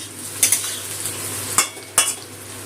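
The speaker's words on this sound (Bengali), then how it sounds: "পেঁয়াজটা একটু ভেজে নিয়েছি।" Onion and potato frying in a pan for a Bengali boal fish curry, a soft steady sizzle punctuated by three or four sharp clinks of a spoon against the pan.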